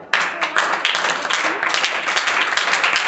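Students clapping in a classroom, a burst of brisk, loud applause that begins abruptly and continues steadily for about three seconds.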